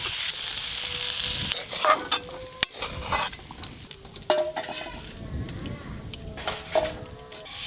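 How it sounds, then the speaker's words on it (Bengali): Red amaranth greens cooked with poppy seeds are stir-fried in a pan, a steady sizzle broken by scraping spatula strokes and occasional sharp clinks, with faint background noise throughout. "এরকম ঝরঝরে করে শাক ভাজা করবেন, খেতে দুর্দান্ত লাগে।"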